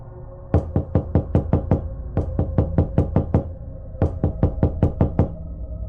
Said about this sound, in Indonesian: Suara ketukan itu semakin keras dan intens.